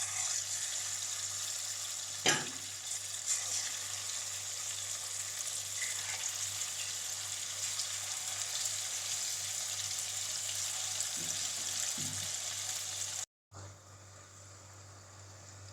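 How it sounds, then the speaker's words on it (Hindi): Chicken pieces fry in hot oil over a low-to-medium flame for Hyderabadi chicken, a steady close hiss and crackle running almost the whole time, with a brief clatter early on and a momentary cutout near the end. "अब हम चिकन को 2 से 3 minute low to medium flame पर फ्राई करेंगे"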